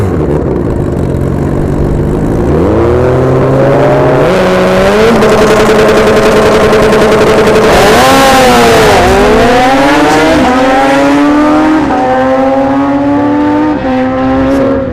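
A Turbo Busa motorcycle on a drag strip run, its engine screaming loud and close as it climbs through several gear shifts, each rising whine dropping briefly before climbing again.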